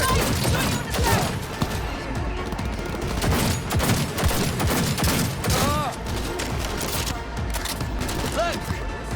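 Sustained rapid gunfire from a firefight in Cyberpunk 2077, with dense bursts and bangs running throughout, loud and close, while voices shout over the shooting.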